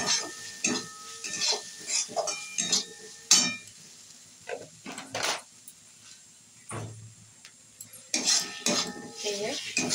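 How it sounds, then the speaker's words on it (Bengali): Spice masala being stirred and fried in a pan for a Bengali potol kosha (pointed gourd) dish, with a metal spoon scraping and clinking against the pan in irregular bursts over a faint sizzle, close by. "দেখো কত সুন্দর মশলা কষছি আমি।"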